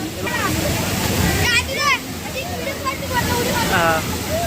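Water pours and rushes steadily at a swollen village river on a swimming outing, a loud continuous wash with children's voices chattering and calling over it.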